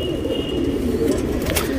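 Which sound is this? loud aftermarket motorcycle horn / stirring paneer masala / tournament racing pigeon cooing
tournament racing pigeon cooing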